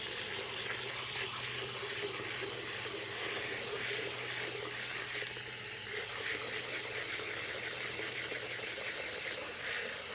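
Pure water pours steadily into a Yard Mastery tank sprayer for lawn spraying, giving a loud, continuous close-up hiss and rush that holds unchanged throughout with no pauses.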